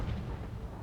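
A ZIS-30 tank destroyer's gun firing in War Thunder, a heavy, dense low boom that fills the whole short moment at steady loudness, with no speech over it.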